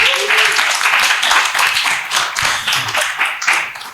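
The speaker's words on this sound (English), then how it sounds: "So let's clap for them." Clapping from a live podcast-show audience applauding its TV and FM radio sponsors, a dense patter of many hands at moderate volume with uneven swells, no voices over it.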